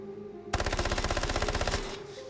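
An MP7 submachine gun fired from the hip in the game Delta Force: one fast, evenly spaced automatic burst of about a second and a half that starts and stops abruptly, loud and close.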